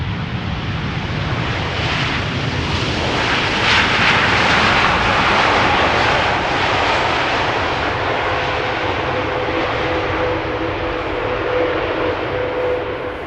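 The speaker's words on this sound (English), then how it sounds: "KLM flight 622. Arriving from Atlanta, Georgia. 787-10 Dreamliner." KLM Boeing 787-10 Dreamliner arriving at Schiphol Airport on a flight from Atlanta, a loud steady jet roar filling the whole clip with a faint whining tone, heard from close by outdoors with no talk.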